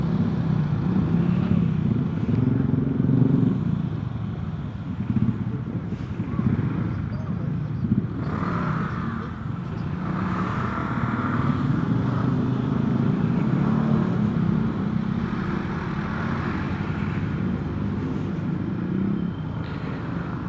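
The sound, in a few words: busy road traffic with many vehicles and motorcycles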